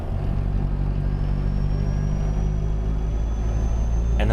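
Truck engine in American Truck Simulator, a modded Peterbilt 389 hauling a Wade step deck trailer: a constant heavy low rumble with faint clatter, loud and close throughout, no voices.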